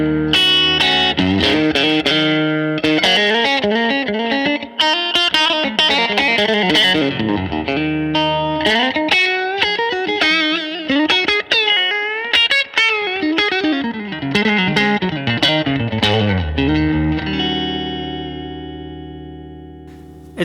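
Electric guitar played through a Fender Super Reverb amp pushed harder, a run of sustained distorted notes and chords with reverb tails, loud and close, ringing out and fading at the end.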